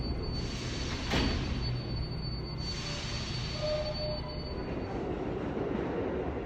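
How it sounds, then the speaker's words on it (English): A Queens-bound 7 subway train in New York City rumbles steadily along the track, with a faint squeal of wheels and a brief bright screech early on, heard close and continuous with no talk. "This is a Queens-bound 7 locomotive."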